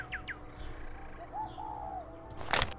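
A bird in the Nancy Drew game Warnings at Waverly Academy gives short chirps followed by a soft warbling coo, close and clear over quiet ambience, ending in a brief burst of noise.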